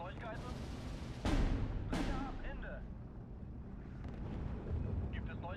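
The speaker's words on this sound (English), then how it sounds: "let's just hit that with some bombs as well" Bombs explode in the Steel Division 2 war game: two sharp, loud blasts about a second apart rise from a low background rumble and fade away, with a voice talking faintly.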